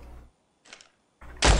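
Metal gate in the shooter game Standoff 2 moving as a player passes, heard as a few short muffled thumps and a sharp louder clank at the end, close and otherwise quiet.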